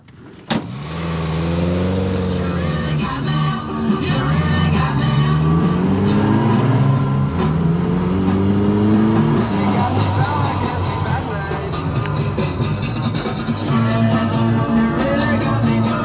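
A van converted into a micro camper drives along with its engine humming steadily, the pitch rising and falling as it shifts through gears, while people chat inside the cab over the road noise.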